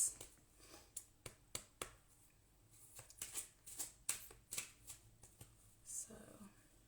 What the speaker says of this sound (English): I'm gonna pull some cards for us.